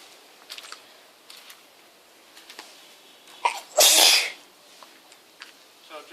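A single sharp, loud sneeze bursts out close by in a quiet indoor space during plumbing work, surrounded by faint scattered handling clicks.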